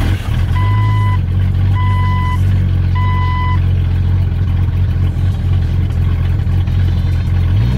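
Jeep engine running with a steady, loud low rumble throughout, with three evenly spaced electronic beeps sounding over it in the first few seconds.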